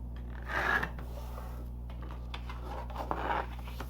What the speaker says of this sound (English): Now we can take our card base, fold and burnish along the score line.